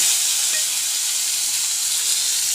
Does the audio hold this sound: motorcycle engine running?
no